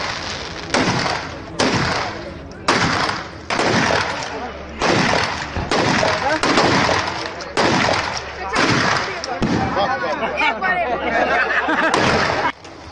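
Rapid bursts of gunfire from firearms practice, a series of sharp loud cracks in an irregular rhythm, with people talking and chattering between and under the shots.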